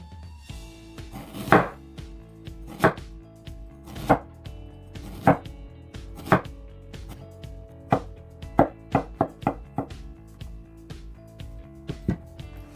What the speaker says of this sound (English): So we gotta cut it into a little slice right now